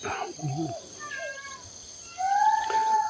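A cat meows close by, a few short calls followed by a longer rising meow, with a thin insect-like hum in the background.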